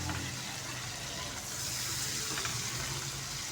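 Water poured into a pan of masala gravy for an egg bhurji dish, a steady gushing pour that runs continuously and fairly loud, close by, with the sizzle of the cooking gravy beneath it and no talk.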